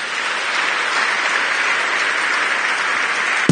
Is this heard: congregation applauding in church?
yes